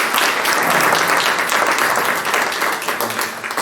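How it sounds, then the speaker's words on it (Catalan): An audience applauds a guest speaker at a talk, producing a thick, continuous roar of clapping from many hands that is loud and near, tapering slightly toward the end. "Un aplaudiment pel Toni, sisplau."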